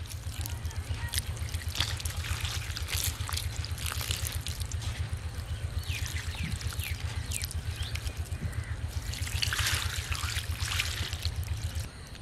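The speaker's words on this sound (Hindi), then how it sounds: "क्रश किए हुए आलू में से दो से तीन दफ़ा पानी गुजारेंगे और इनको अच्छी तरह धो लेंगे।" Water poured and trickling through crushed raw potatoes in a strainer, a steady running wash repeated as the potatoes are rinsed, with close splashy dribbling throughout and no talk.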